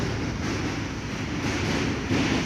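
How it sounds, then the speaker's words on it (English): Steady low rumble and rattle of a subway train running along the tracks, heard from inside the car. "Just the sound of the trains."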